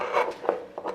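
A wood gouge takes shavings off an elm bowl, producing a few short, rough scraping strokes at close range, with no talk.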